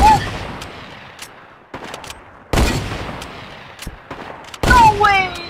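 Sharp Fortnite gunshots crack in isolated bursts, a few loud reports spaced apart with quick echoing decays and game effects trailing after the last one.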